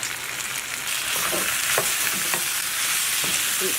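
Shrimp stir-fried in a pan with oyster sauce gives a steady broadband sizzle, with a few soft scraping stirs rising over the constant frying hiss, close and fairly loud, no voices.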